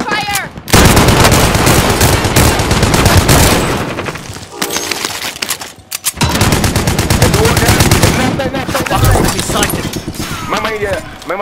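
Call of Duty: Modern Warfare gunfire, loud and close, with rapid automatic bursts and heavy shots packed into long sustained stretches and a brief lull in the middle, under and between voices.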